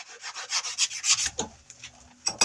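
Rapid rhythmic rasping of a sander taking a burr off a steel ball peen hammer, a run of quick close strokes fading out, then a couple of brief scrapes at the end.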